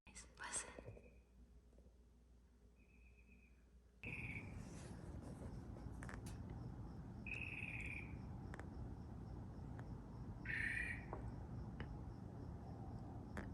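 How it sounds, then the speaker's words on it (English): Birds singing at 2 a.m. on a night in Los Angeles: a few short, thin chirps spaced several seconds apart, faint and distant over a steady background hiss, with soft murmuring voices nearby. "it's literally 2 a.m. and there's birds singing"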